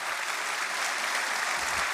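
Dense, steady applause from an audience at an Éric Zemmour speech, many hands clapping continuously at an even level for the full two seconds with no voices rising above it.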